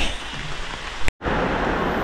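Heavy rain pouring down hard outdoors while a gate is being built, a dense, loud hiss that cuts out for a split second and then resumes just as strong.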